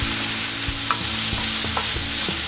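Korean BBQ beef stir-fries in a hot pan, loud constant sizzling with repeated scraping and tossing knocks of the spatula moving the meat back and forth.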